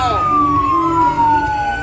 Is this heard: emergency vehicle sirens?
yes